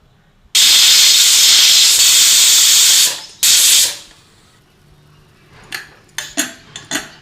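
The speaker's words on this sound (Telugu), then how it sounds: "ఒక 3 విజిల్లు వచ్చేంత వరకు తీసుకుంటే సరిపోతుంది." A pressure cooker cooking tomato dal lets out a loud hissing whistle, one long blast then a shorter one, followed by a few light metallic clinks of utensils.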